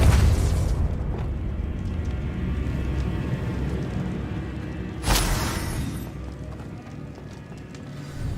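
Hogwarts Legacy spell blasts boom and rumble, one loud burst at the start and another sharp explosion midway, against a constant low roaring background.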